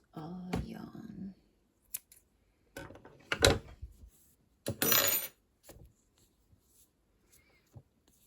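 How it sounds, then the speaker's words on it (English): Yarn snipped with scissors after finishing a crochet pumpkin coaster, a few short close cuts and handling rustles separated by quiet gaps, with faint soft vocal sounds early on. "chain 1 and cut our yarn"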